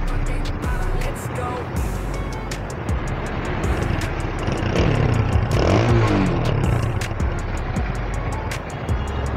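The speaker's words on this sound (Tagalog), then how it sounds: "Palya-palya na itong motor natin mga idol." An old, misfiring 2016 motorcycle engine runs on the road with a steady rough drone that swells into a louder revving stretch midway, accompanied by rapid ticking and passing traffic noise.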